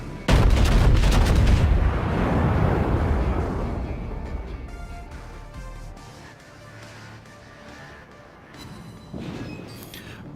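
Battleship Bayern firing a main-gun volley in the naval game World of Warships, a heavy booming blast that rumbles and slowly fades, followed by a later, quieter burst of impacts.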